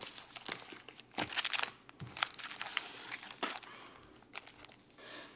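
Foil Pokémon Battle Styles booster packs rustling and crinkling as a stack is shuffled by hand, a steady close run of crisp crackles and scrapes with no talking.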